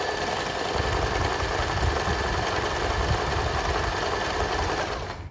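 An Usha electric sewing machine stitching fabric for patchwork, running as a fast, steady mechanical whir and rattle close by for several seconds before stopping.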